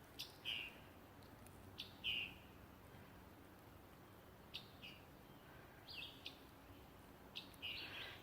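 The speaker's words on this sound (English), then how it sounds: "Let me be quiet for a minute, see if you can hear that bird." Faint, distant bird chirps repeat every second or two over a quiet outdoor hush, with no voices.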